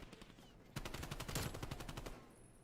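Rapid automatic gunfire in a competitive Call of Duty match, wallbang shots hitting through cover in a quick rhythmic string of cracks, fairly close, with quieter game ambience before and after.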